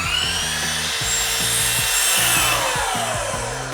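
Saw cutting through wooden door trim at a 45-degree bevel, a loud rasping stroke repeated in an even back-and-forth rhythm, close up with no talking.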